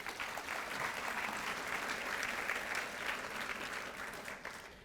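Warm, sustained applause from a women's gathering audience, a dense even roar of many hands at moderate distance that holds for several seconds, then tapers off at the end.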